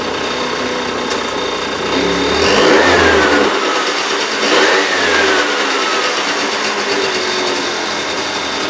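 A small engine runs loud and close after its carburetor and air filter were cleaned, idling steadily with two brief rises in revs before settling back, no talk over it.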